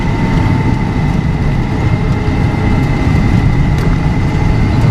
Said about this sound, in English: Have my foot off the brake, and the engine's holding it back.